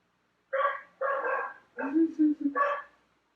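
A dog barks during an indoor yoga class: four short, close barks in quick succession, fairly loud, with a brief pause between the second and third.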